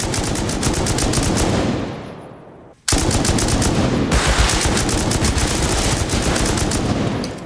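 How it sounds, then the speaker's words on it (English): Rapid automatic gunfire from the Rust video game, dense and loud, with a brief gap before the shooting resumes and continues in sustained bursts. "He's shooting me through the floor, bro."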